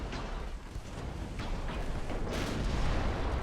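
Naval gunfire striking a warship during a convoy attack in the Ultimate Admiral Dreadnoughts game, a dense rumbling boom with sustained low roar throughout, swelling louder near the end.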